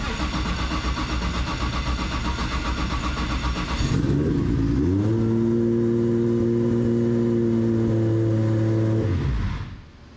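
A Toyota 2JZ engine, freshly installed in a car, cranks amid loud noise, catches and settles into a steady, even idle hum for several seconds before cutting off.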